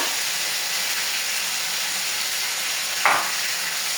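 Garlic paste sizzles in a pan with mutton and onions as a continuous loud hiss, with one brief sharper burst near the end. No voices are heard.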